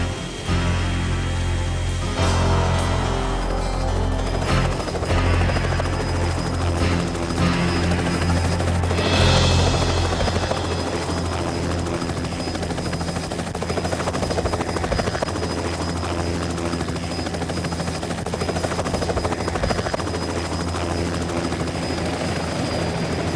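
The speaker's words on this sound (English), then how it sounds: "Nor is landing our helicopter on this moving deck." Loud, continuous thudding drone of a helicopter landing on a moving ship deck nearby, rotor and engine steady throughout with a brief swell partway through.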